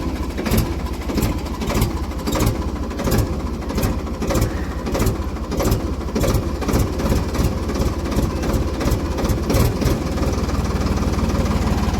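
Ford 3600 tractor diesel engine idling steadily after being started, a close, loud, continuous rhythmic chug with fast regular firing pulses throughout, no talking.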